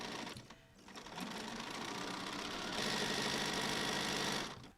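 A sewing machine in need of servicing runs steadily while quilting, a close mechanical whir that starts up, picks up speed and holds a fast even hum before stopping.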